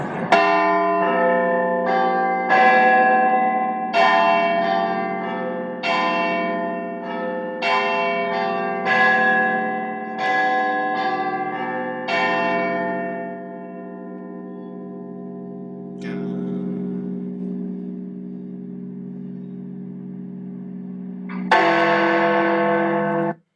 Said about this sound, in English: you see the start of the bells begin to ring